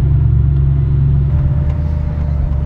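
A Koenigsegg Regera accelerates hard in first gear on the Monaco Grand Prix circuit, heard as a loud, heavy, continuous low rumble with a steady drone that stays close and unbroken, no talking over it.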